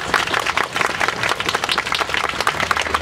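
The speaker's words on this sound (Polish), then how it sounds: "może oklaskami właśnie, podziękowali" Dense audience applause at an outdoor city birthday celebration, a steady crowd clapping loud and close throughout with no gaps.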